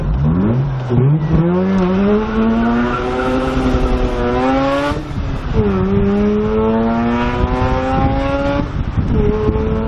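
A rotary-engined car revs hard several times, its smooth, high wail sweeping up and dropping between blips, loud and close, with no talking.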